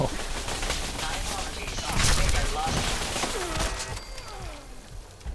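In Fallout 4, weapons fire and automated settlement turrets join in a dense, rapid barrage of overlapping shots and laser bursts, with a voice heard amid the clatter.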